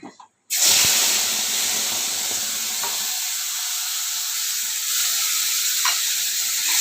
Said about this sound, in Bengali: মাছগুলো ভাজার পর আমি তেলের মধ্যে এই কালো জিরে ফোড়ন দিলাম।